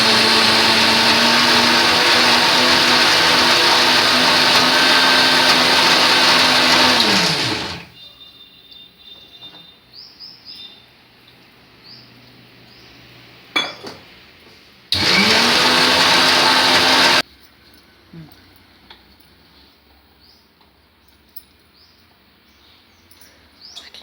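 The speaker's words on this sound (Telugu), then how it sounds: "మిక్సీ వేస్తున్నాను" Electric mixie grinder blending onion vadiyalu batter with green chillies and soda powder, a loud steady whir for several seconds that stops, then a second short burst after a quiet pause with light kitchen clatter.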